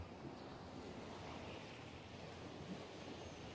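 Ocean surf and wind at Bimini in the Bahamas, a steady broad wash of waves with gusting wind buffeting the microphone, continuous and moderately quiet with no talking.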